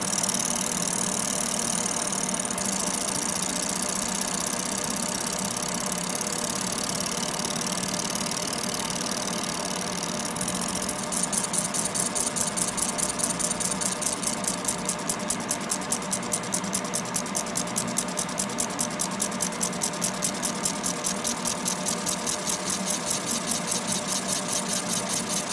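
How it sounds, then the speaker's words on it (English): Smoke purifier machine running beside a phone laser separator used on broken iPhone X screens, a constant loud mechanical drone with a rapid buzzing rhythm joining partway through, steady and close with no talk. "unhealthy smoke, just like sucked by this, absorbed by this machine, by this purifier."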